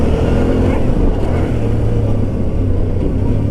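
A Yamaha Tenere 700 motorcycle engine drones steadily while being ridden along a road, with a continuous loud, low rumble and wind noise and no clear gear changes.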